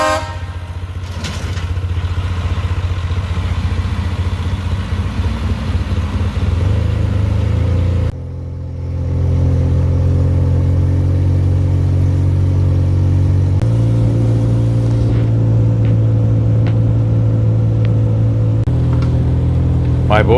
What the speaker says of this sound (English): It's like I'm driving the Dukes of Hazzard dump truck.